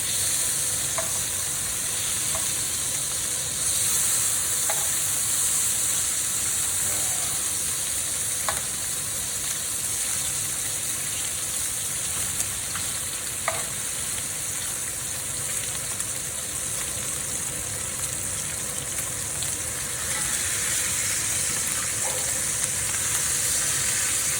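A porterhouse T-bone steak, smoked and then reverse seared, sizzles loudly and without a break for a long stretch, a dense hiss with occasional small pops and crackles.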